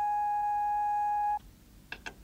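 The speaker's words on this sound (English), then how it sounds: "the vibrations are generated electronically by an oscillator, and a simple continuous tone looks like this" A steady, pure continuous tone from a Moog synthesiser oscillator, with faint overtones, holds for over a second, then cuts off, followed by a couple of brief soft blips.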